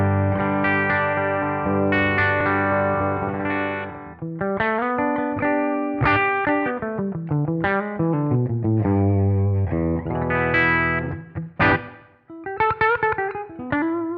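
An electric guitar plays through a Kemper liquid profile of a Fender Deluxe Reverb amp set with volume, bass and treble at 5, giving a warm, slightly driven tone. Sustained chords give way to quick melodic runs and bends, loud and close.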